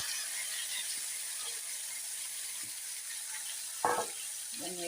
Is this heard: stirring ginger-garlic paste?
yes